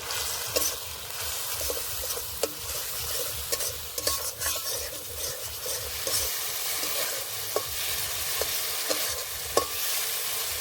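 Ground cumin, coriander and chili powder being sautéed in hot oil in a pan, a constant close sizzle broken by repeated sharp spatula taps and scrapes at irregular intervals, with no talking.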